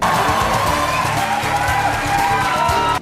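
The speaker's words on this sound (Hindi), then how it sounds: "लोग खड़े हुए, सीटियां बजाई, तालियां बजाई और शाहरुख खान का अभिवादन किया।" A large crowd stands, whistling and clapping for Shah Rukh Khan, making a loud, continuous roar with shrill whistle streaks over a steady beat of music, all cutting off at once.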